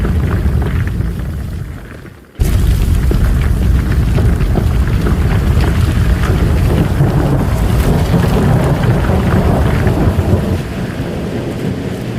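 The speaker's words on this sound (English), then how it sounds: "witnessed thunderstorm and heavy hail due to the erratic weather conditions and low temperatures" A thunderstorm with heavy hail in the Makkah area, loud dense rumbling and pounding that cuts in abruptly after a short quieter stretch, then stays steady with wind buffeting the microphone.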